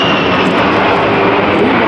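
Military jet aircraft flying overhead during a training exercise, a loud, continuous roaring rush of engine noise filling the whole moment at close range.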